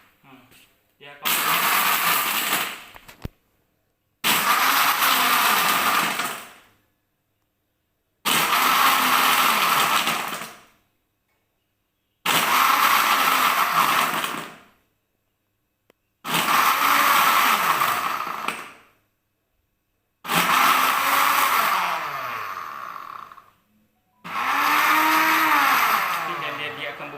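A Philips food processor crushing ice runs in seven loud, separate bursts of grinding, rattling whir, each lasting about two seconds and separated by short silences.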